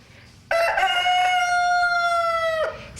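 A rooster gives one loud, close crow that rises sharply and holds for about two seconds before breaking off, over quiet background.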